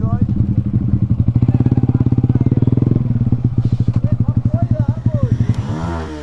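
Yamaha motorcycle, an MT15 or R15 V4, fitted with an Akrapovic exhaust, revving loudly up close with a rapid pulsing exhaust note that rises and falls, and a voice briefly heard near the end.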